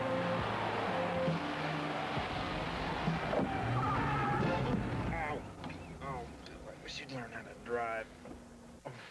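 Car tires skidding and squealing as the brakes seize up, a harsh noisy scrape with wavering squeal tones that fades out, followed by people talking.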